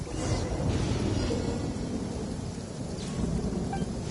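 A thunderstorm in the video game Genshin Impact, with a deep, steady rumble of thunder rolling under continuous rain for the whole stretch, loud and close with no talking.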